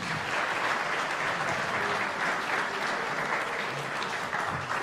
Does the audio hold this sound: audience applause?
yes